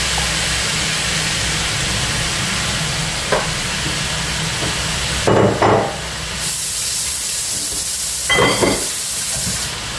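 Vegetables sautéed in a pan give off a steady hiss with a few louder sizzling bursts, no voices over it.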